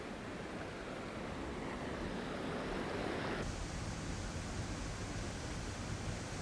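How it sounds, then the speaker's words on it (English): Little River Falls drops 60 feet into the head of a deep canyon, a steady broadband roar of falling water heard from a distance, unbroken and without voices. "the river takes its second major plunge as it drops 60 feet over Little River Falls"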